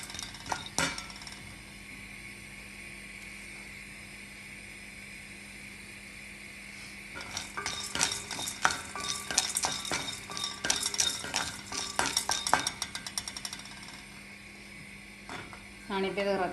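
Spices dry-roasting over low heat in a pan for puliyodharai, with a spoon scraping and clinking against the metal in bursts; there is a quieter stretch at the start and busier stirring toward the end.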